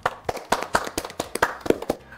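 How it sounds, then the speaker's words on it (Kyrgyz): Applause at a school quiz show where teachers team up with their students: a small group clapping, with a dozen or so distinct, moderately loud claps in an uneven rhythm, then fading at the end. "Кол чабуулар."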